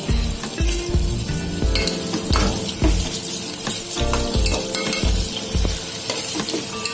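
Onions, green chilies and curry leaves sauté in hot oil for a Tamil-style squid gravy, giving a steady close sizzle broken by repeated scraping, clattering strokes of a spoon against the pan.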